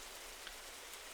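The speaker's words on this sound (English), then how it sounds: "it's raining for me right now" Steady rain falls outside, a soft continuous hiss of drops with no other sounds, low and unbroken throughout.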